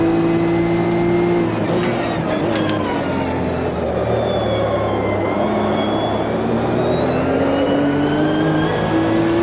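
A race car in the Automobilista 2 racing sim powers hard out of a corner. The engine's loud, continuous whine falls and then climbs in pitch as it accelerates, with brief sharp ticks early on.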